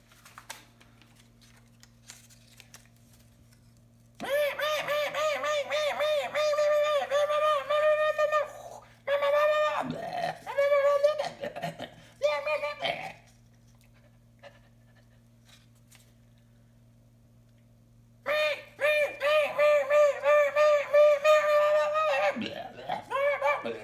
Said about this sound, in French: il y avait un petit groupe de oiseaux